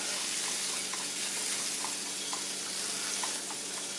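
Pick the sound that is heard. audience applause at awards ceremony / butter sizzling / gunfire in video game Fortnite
butter sizzling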